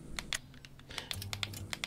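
Quiet, irregular clicks of computer keyboard keys being typed on while playing a paranormal hunting game, with a faint low hum underneath.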